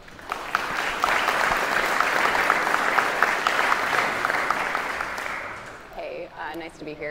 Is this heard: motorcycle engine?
no